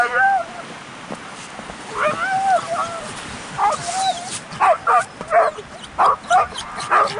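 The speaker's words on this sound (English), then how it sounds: "Dogs are already excited." Excited huskies at a sled dog outing yip, whine and bark at a distance, first in scattered bursts and then in a quick run of rhythmic barks near the end.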